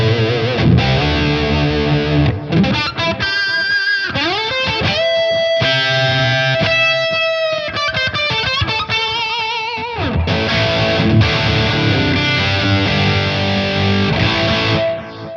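A distorted electric guitar plays chugging riffs and sustained lead notes through a crunchy Marshall amp tone captured in ToneX, loud and up front.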